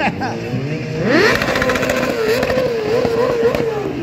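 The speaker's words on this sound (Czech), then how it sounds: "A jeho neskutečný výfuk AK-47" A motorcycle fitted with an AK-47 exhaust revs up hard, the engine note climbing sharply and then holding a loud, wavering roar close by, with voices over it.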